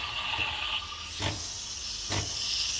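A Nespresso Creatista Plus steam wand froths milk in a jug with the tip near the surface, making a continuous close hiss broken by short gurgling bursts as air is drawn in.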